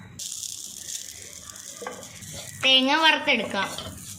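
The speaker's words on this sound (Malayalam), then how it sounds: "പാൻ ചൂടായിരിക്കുന്നു. നമുക്ക് തേങ്ങ വറുത്തെടുക്കാം." Grated coconut roasts in a hot pan for a Kerala-style chicken curry, giving a steady sizzle with soft stirring scrapes. A brief voiced tone rises near the end.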